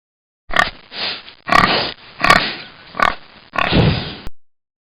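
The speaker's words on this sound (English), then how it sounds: "Pig." A pig oinks and grunts in five short, close bursts with brief gaps between them, loud and alone against silence.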